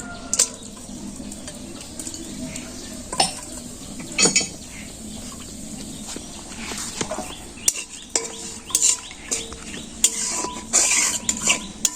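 Chicken pieces and potatoes fry with bay leaf in a pot for chicken biryani, as a spoon stirs and scrapes with scattered metallic clinks and knocks over a low, quiet background.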